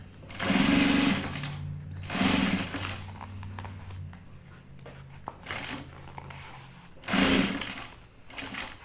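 A sewing machine back stitches binding onto a zip bag in three short, loud whirring bursts, with quieter handling noises and pauses between runs.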